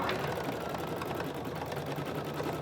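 An embroidery machine stitching around an applique outline gives off a steady, moderately loud mechanical hum with a quick repetitive needle chatter running continuously throughout.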